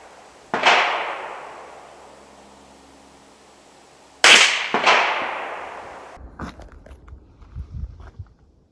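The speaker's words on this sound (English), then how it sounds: "we're going to use Remington 22 target ammunition that is a lead projectile" Two loud close .22 gunshots from Remington target rounds with lead projectiles, fired into a ballistic gel block outdoors, each a sharp crack with a fading echo, then shuffling and handling noises.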